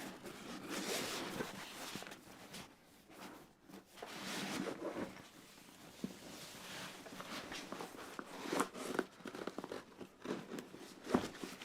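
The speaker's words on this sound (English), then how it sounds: "The large pocket zipper zips up" The large pocket zipper of a DD Paratrooper bag being drawn along with a few quick rasping pulls, close by, mixed with faint rustling and handling noises; no one speaks.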